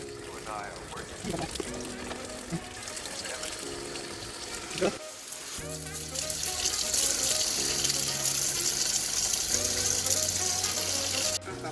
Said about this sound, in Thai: แล้วเดี๋ยวนี้เอาไปล้างนะครับ แล้วก็ตัวนี้ก็ล้างได้นะครับอ่ะ น้ำล้างเลยนะครับ